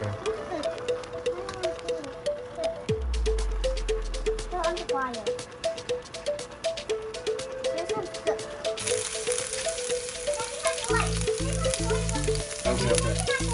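Vegetables for pasta sizzle and fry in a pan at steady volume while a utensil stirs and rattles against it, with voices talking over the cooking.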